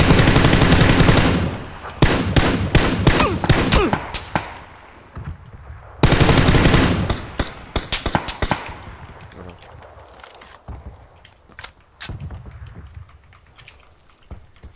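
Gunfire in PUBG on the Sanhok map: loud rapid automatic bursts, then scattered single shots and quieter distant volleys with gaps between, and no voices.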